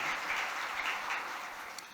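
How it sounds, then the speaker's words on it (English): Audience applause at the New Rochelle State of the City 2025 address: a dense, steady wash of clapping from a crowd, holding evenly for a couple of seconds before tapering slightly, with no voices over it. "So I just want to give them a round of applause"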